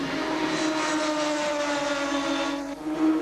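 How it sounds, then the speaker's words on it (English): Yamaha R1 superbikes race at Oulton Park in a 2000 British Superbike support event, their engines making a steady droning whine that holds throughout, fairly distant, with no voices. "David Jeffries lead from Matt Llewellyn on the R1 Yamahas"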